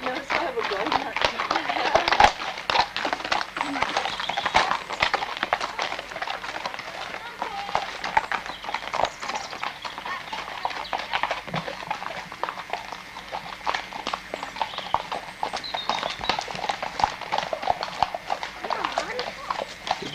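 Horses walk along a path, their hooves clip-clopping in an irregular patter close by while people chat over them.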